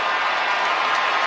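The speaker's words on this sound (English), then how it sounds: "And this crowd is feeling good right now." Loud, steady roar of a baseball stadium crowd cheering at a Rockies vs Dodgers game, a dense continuous wall of applause and shouting with no pauses.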